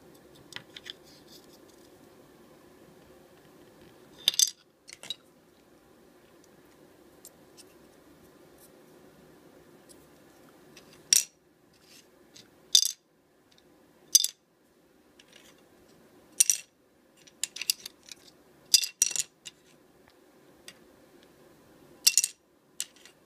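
Metal covers of an RA30H1317M RF power module are tapped, giving sharp thin clinks in scattered single and double strikes over a faint hum, close and fairly quiet.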